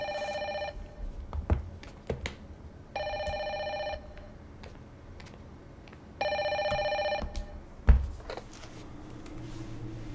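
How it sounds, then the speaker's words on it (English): An in-game telephone in the horror game Fatal Frame: Maiden of Black Water rings in three clear electronic bursts, each about a second long with pauses between, over a quiet ambient background with a few low thumps. "Phone call."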